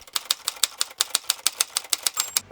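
A typewriter hammers out a quick, steady run of about fifteen crisp keystrokes, close and alone, with a faint ring near the end.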